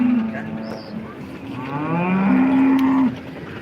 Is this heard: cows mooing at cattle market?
yes